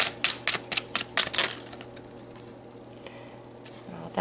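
A quick series of crisp, rapid clicks and flutters of tarot cards being shuffled, close up, followed by quieter scattered taps.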